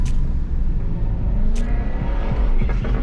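A car engine roars steadily and loudly from close by on a street near an Indian market, with a few brief high squeaks over the continuous rumble.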